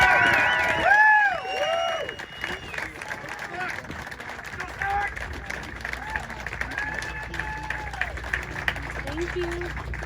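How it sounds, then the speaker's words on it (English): Applause from an audience at a military awards ceremony, sustained clapping from a modest crowd with a few cheers, continuing steadily at moderate loudness while voices murmur and speak over it. "Round of applause, please"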